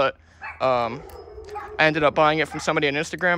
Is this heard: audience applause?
no